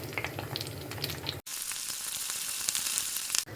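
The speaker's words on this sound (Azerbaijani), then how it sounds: "Su ilə durulayıb yağda bir-bir qızardıram." Rinsed eggplant pieces fry in oil, a bright continuous sizzle close to the pan, with a brief dip and a sudden louder hiss partway through as more pieces hit the oil.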